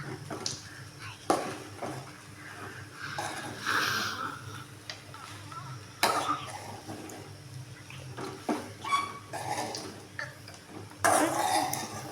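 Basmati rice for onion rice being stirred in a pan, with scraping utensil strokes and occasional clinks against the metal. Someone talks over the stirring throughout, and the stirring sounds come in bursts at moderate volume.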